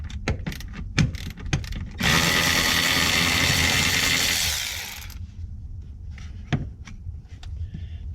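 A ratchet with a 13mm socket loosens a bolt on a 2002 Mercedes-Benz C240 (W203). Close, irregular clicks and knocks are followed by a loud, steady whirring burst of about three seconds, then more scattered clicks.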